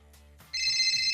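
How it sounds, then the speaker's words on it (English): A telephone rings, a bright electronic trill that starts suddenly after a brief quiet moment and holds steady and loud. "you hear the phone ringing again"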